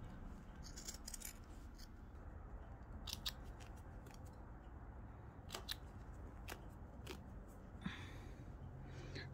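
Scissors snip around the fabric of a separate elastic waistband on stretch leggings, giving a series of sharp, close cuts in irregular bursts over a quiet room, with no talking.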